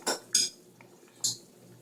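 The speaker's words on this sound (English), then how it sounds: "Mix it in." Steak being mixed in a dish, utensils clinking against it in three or four sharp, separate strikes with soft scraping between them, close and fairly quiet, without talk.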